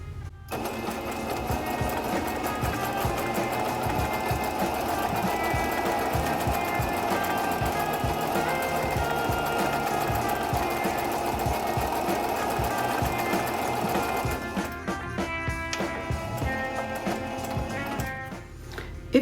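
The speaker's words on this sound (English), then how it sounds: "If you're sewing along on your Singer Brilliance, this is stitch number 61." A Singer Brilliance sewing machine runs stitch number 61 in a fast, steady mechanical chatter of rapid needle strokes, loud and continuous, then slows and stops near the end.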